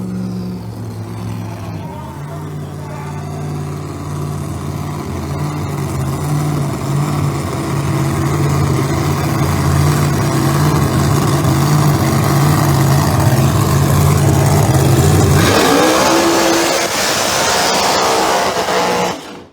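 A drag racing car at Empire Dragway rumbles with a deep, steady engine drone that builds and holds loud for about fifteen seconds, then shifts into a higher, rougher rev before cutting off abruptly.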